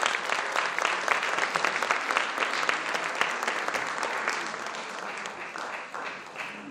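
An audience at a festival laureates' concert applauds a parish brass band trumpeter with dense, sustained clapping that slowly fades toward the end.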